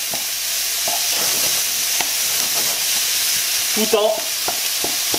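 Chicken filling for enchiladas frying over high heat while being stirred, a loud steady sizzle with scraping and clattering of the spoon against the pan, and someone speaking briefly.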